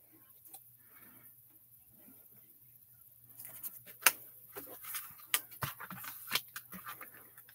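Scissors snip paper to cut out a word for a stamped holiday card, quiet at first and then a series of sharp close clicks and snips, with faint background hum.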